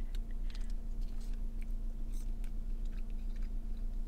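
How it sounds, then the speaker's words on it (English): Someone chews Wingstop corn up close, giving soft, wet bites and mouth sounds repeated steadily over a low background hum, with no talking. "I really want to try those corns"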